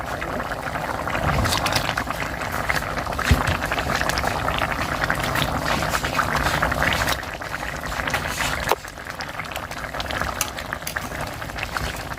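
A pot of water for fish curry gravy rolls at a steady boil, a continuous close bubbling hiss with occasional small pops and clinks, no talk over it.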